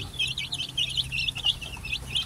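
Eight newly hatched chicks that resemble jungle fowl peep with their hen: rapid, repeated high-pitched chirps from several close, small birds, continuous and overlapping, over a low background hum.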